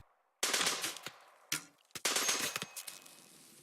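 Loud, close bursts of rapid gunfire in Rimworld, a colony battle against raiders with an archer, come in several clustered volleys separated by short gaps.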